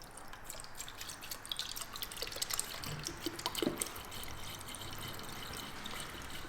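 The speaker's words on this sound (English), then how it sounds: "I'm going to pull that little bolt out again and let all this drain out" Coolant drains out of a Kawasaki ZX6R motorcycle after a small drain bolt is pulled, a quiet trickle with irregular drips and splashes that swell briefly midway, close by and without talk.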